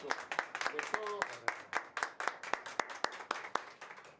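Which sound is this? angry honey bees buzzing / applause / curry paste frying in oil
applause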